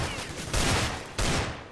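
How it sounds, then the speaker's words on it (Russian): Two sharp, loud gunshots in CS:GO about half a second apart, each followed by a short fading tail, with a low rumble of game ambience between them. "Делает точно выстрел в голову с третьей попытки."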